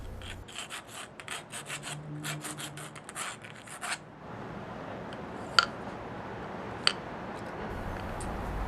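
Rough edges on freshly cut PVC pipe are rubbed clean with quick, rhythmic rasping strokes for about four seconds, close up, followed by quiet handling and two sharp clicks, with no talking.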